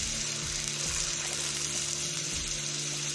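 Chicken frying in a karahi with ginger garlic paste as it is mixed, a loud continuous sizzle with low rumbling and occasional soft scrapes, close up.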